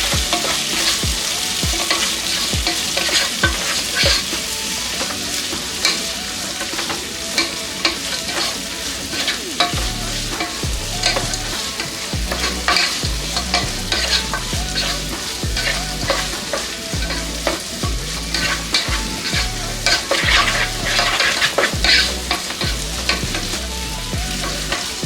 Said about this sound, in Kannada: ಈಗ ಟೊಮೆಟೊ ಎಲ್ಲ ಎಣ್ಣೆಯಲ್ಲಿ ಫ್ರೈ ಆಗಿದೆ.